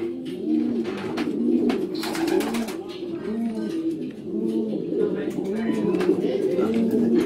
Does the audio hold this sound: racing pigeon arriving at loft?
yes